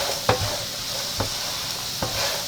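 Breakfast burrito filling is stirred in a frying pan, with three distinct scraping strokes over a steady background sizzle.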